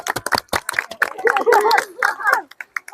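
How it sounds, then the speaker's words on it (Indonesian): A group of students clapping after a floor gymnastics forward-roll session, a burst of sharp, uneven claps close by, mixed with voices talking and calling out. "Tepuk tangan."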